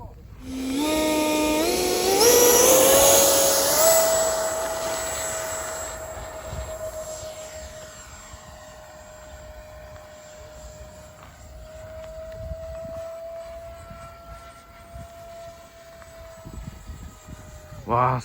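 A radio-controlled EDF ducted-fan jet model airplane screams past at high speed, its whine rising sharply then holding a steady high tone as it flies around, loud at first and fading somewhat later.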